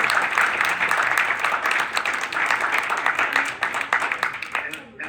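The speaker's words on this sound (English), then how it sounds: "give him a good round of applause" Audience applause at a Mended Hearts heart-patient meeting, sustained dense clapping from a seated group for several seconds with voices mixed in, tapering off at the end.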